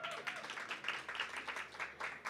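Audience applause greets alumni of a fashion business programme as they come forward, a soft, slightly distant patter of clapping with rising and falling swells across the moment.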